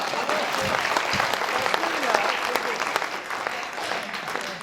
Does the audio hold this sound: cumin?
no